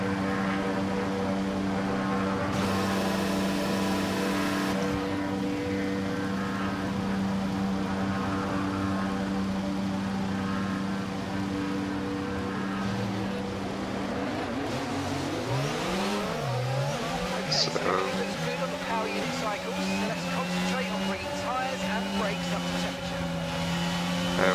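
Formula One cars on the formation lap of the Bahrain Grand Prix in a racing game: a dense, droning engine hum that climbs in pitch as the cars accelerate, with someone talking over it.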